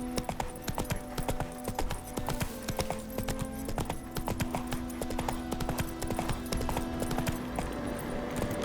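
Horse trotting in The Witcher 3, a steady, close clip-clop of hooves on hard ground running throughout over a quiet game backdrop.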